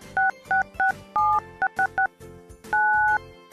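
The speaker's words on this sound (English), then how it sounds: "each participant dial into Conference Bridge, and enter access code to join with the conference meeting" A telephone keypad dials into a conference bridge with a quick run of loud, clean DTMF beeps, several short tones, then one longer tone, heard alone with no talking.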